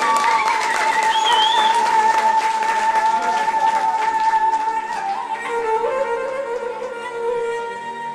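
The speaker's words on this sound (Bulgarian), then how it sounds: "Аплодисменти за майката на булката." Wedding guests applaud the bride's mother, a broad, steady wash of clapping that runs under loud festive music throughout.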